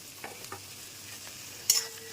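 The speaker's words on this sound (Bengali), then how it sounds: "এবার এটাও সুন্দর করে নেড়ে নেবো" Garlic, ginger, green chilli and tomato stirred into lightly fried onions in a pan for an egg chicken tarka, with a few soft scraping strokes over a quiet sizzle and one sharper clatter near the end.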